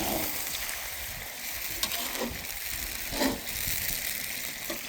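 Meat sizzles and fries in linseed oil in a big cauldron, a steady close hiss with brief louder spatters and crackles throughout, no voices.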